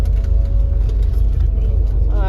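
A Volvo bus rides along the Shimla road, its engine a loud, steady low rumble inside the cabin, with a faint rising whine near the end.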